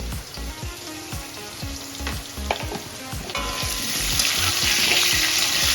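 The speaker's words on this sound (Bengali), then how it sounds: "ভালো করে নাড়িয়ে নেব।" Potatoes fry and sizzle in a pan with turmeric and salt, stirred with repeated scraping strokes at a steady rhythm, close and clear, the hiss growing brighter and louder toward the end, no talk.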